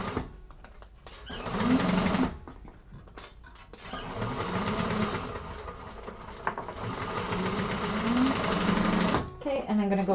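A sewing machine runs in bursts, sewing strengthening stitches around a fabric hobo bag during a sewing class, with close whirring stretches separated by brief pauses.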